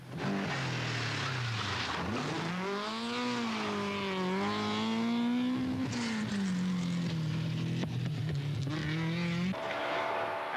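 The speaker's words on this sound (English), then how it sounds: "the hard-charging Austin McHale has worked his way back to sixth place after some inspired driving in his Chevette" A Chevette rally car drives hard on a 1982 international rally, its engine revving up and down through gear changes in a loud, close, continuous howl with no voices.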